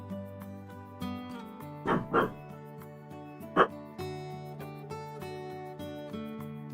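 A pet dog at home barks twice, briefly and fairly close, over the steady, gentle background music of the cozy farming game Faebloom Valley.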